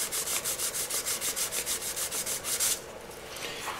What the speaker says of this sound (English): start with a 400 grit. And like I said, we're going to use it dry. And we're just going to work back and forth.